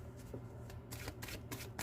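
Tarot cards being shuffled by hand, a quick series of crisp riffling bursts and soft slaps close up, repeating in short irregular bursts with no talk.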